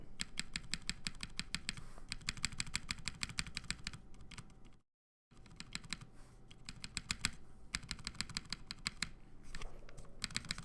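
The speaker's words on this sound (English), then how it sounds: "There's definitely some rattle in that spacebar." Clacking keystrokes from a custom mechanical keyboard come in rapid bursts, with a rattling spacebar and loose key sounds. The typing is close and steady, broken by a brief silent gap midway.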